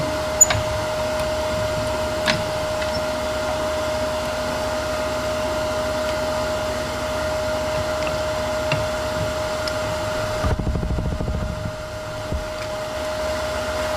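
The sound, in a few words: wood lathe turning, cutting with thin parting tool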